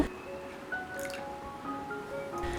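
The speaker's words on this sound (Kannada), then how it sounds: "ಅದಕ್ಕೆ ಹಾಕೋತಾ ಇದ್ದೀನಿ ಅರ್ಧ ಕಪ್ಪಷ್ಟು ಹಾಲು" Half a cup of milk poured into a bowl of curd for a North Karnataka raita, giving soft dripping and splashing liquid sounds, close and quiet, with no talking.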